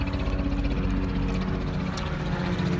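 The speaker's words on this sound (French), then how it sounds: "Je laisse passer l'hélicoptère" A helicopter passes at a distance, a continuous engine and rotor drone with rumbling low tones, steady in loudness across the stretch with no speech over it.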